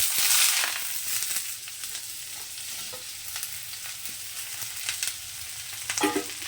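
Green beans frying in white cooking oil with fried garlic in a pan, steady close sizzling hiss with scraping stirs and occasional clinks from a utensil, no voices.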